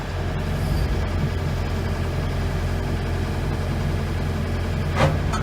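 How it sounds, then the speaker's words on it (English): Cat 313FL excavator diesel engine running steadily at a low idle, a deep continuous rumble close by, with a brief sharper burst near the end. "listen to the engine, it'll spool up very, very nicely"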